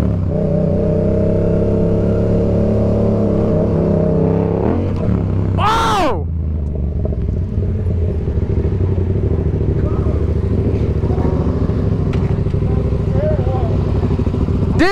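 Engine of a 2018 Yamaha MT-09 motorcycle runs steadily and loud close by, with one sharp rising rev burst partway through before settling back to a rumbling idle.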